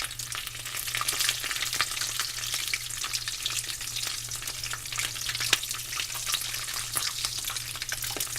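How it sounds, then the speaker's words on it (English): Taquitos deep frying in hot oil, a dense steady sizzle and crackle with scattered pops, close and continuous throughout. "we're going straight to the fryer, and I think this is going to be really hot."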